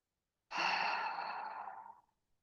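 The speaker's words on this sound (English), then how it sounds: "breathe now low down into your belly" A single deep belly breath is let out as a long, soft, close exhale lasting about a second and a half, with no talking, then quiet.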